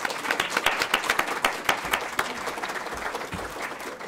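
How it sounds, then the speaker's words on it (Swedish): An audience at a book evening talk applauding warmly, dense clapping that stays strong and then gradually thins out toward the end. "En varm applåd för Mikael Mogren."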